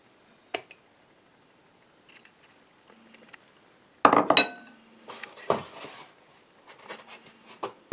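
An egg is cracked and dropped into a bowl of creamed butter and sugar for carrot cake batter, with a few sharp clinks and taps followed by a cluster of knocks and glassy rattles, close and fairly quiet.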